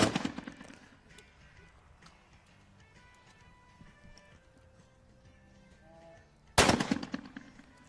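Shotgun blasts at a para trap shooting final of the 2019 World Shooting Para Sport Championships in Australia, with a loud sharp report at the start and another near the end, and a quieter outdoor range ambience with faint tones between them.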